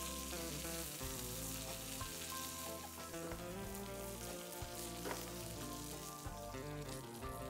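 Curry leaves sizzle in hot coconut oil for a Kerala masala fish fry, a steady, dense frying hiss that carries on throughout under background music.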